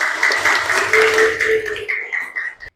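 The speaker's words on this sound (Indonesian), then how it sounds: "Tepuk tangan untuk kalian semua." Students in a school classroom clap together for the groups who presented, in a busy burst with a steady tonal hum running beneath it. The claps thin out and break into scattered strokes before stopping.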